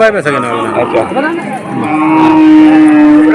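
A cow lets out a long, low, sustained moo at the Molladanga cattle market in Khulna district, heard close by as people talk in the crowded yard.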